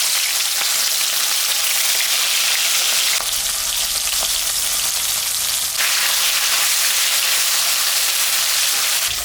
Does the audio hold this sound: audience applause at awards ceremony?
no